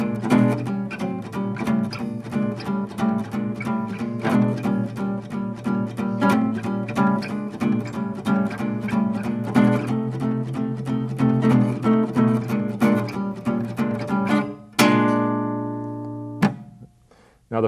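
Swing-style rhythm guitar with small chord shapes played over a 12-bar blues, steady even strums on every beat at medium tempo, ending with a ringing final chord.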